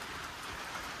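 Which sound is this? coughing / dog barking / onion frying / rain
rain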